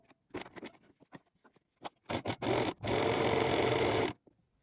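A sewing machine stitches a T-shirt neckband with a 1 cm seam, starting with short stop-start bursts and then running steadily for over a second, close and alone.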